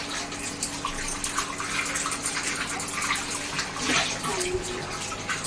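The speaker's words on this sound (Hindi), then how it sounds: "अभी प्लेट सब धो रही है" Plates are washed by hand under a running tap at home, a steady close splash of water with faint clinks and a brief louder gush near the end.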